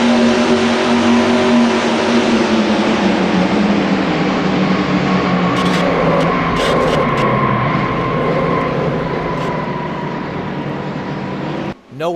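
Racing engines drone loudly and steadily in the NR2003 video game during a multi-car crash at the Daytona 500, with a few sharp impact bursts in the middle before the roar drops away abruptly at the end.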